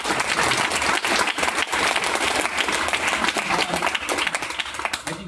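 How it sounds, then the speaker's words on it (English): An audience at a gaming community meetup applauds, a dense, steady wash of many hands clapping throughout, fairly close and without talk. "can we get a round of applause?"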